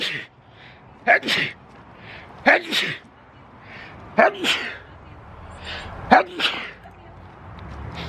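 Four sharp sneezes, each a sudden burst with a brief breathy intake before it, spaced a couple of seconds apart over quiet background.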